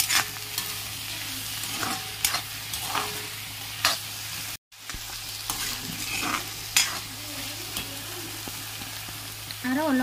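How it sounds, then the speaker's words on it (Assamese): Ginger-garlic paste with salt frying in a pan, a steady sizzle broken by repeated scraping strokes as it is stirred, close and fairly loud with a brief cut midway. "এতিয়া আৰু অলপ সময় এনেকৈ ভাজি লওঁ।"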